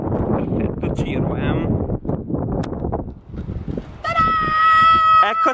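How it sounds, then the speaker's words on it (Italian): Wind gusting against a microphone outdoors in Sardinia, a rough low rumble that runs beneath a person talking almost throughout, with a steady tonal sound joining near the end. "spero che mi sentiate perché c'è il vento"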